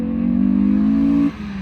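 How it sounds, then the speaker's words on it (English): A modified car fitted with a Ram Air induction kit revs hard nearby, its engine holding a loud, buzzy, rising tone for just over a second before dropping sharply back toward idle. "it has also got a Ram Air induction kit, which sounds incredible"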